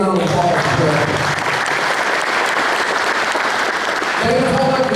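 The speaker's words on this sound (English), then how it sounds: "Let's give both these guys a big round of applause." A crowd claps steadily in sustained applause, with a voice speaking briefly at the start and again near the end.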